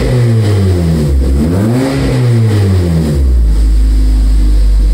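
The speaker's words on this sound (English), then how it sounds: "Here we go, here's some revs." Toyota MR2 Spyder engine fitted with a DIY 5 PSI turbo kit revving hard, loud rising and falling sweeps in quick succession before settling into a deep steady idle, very close.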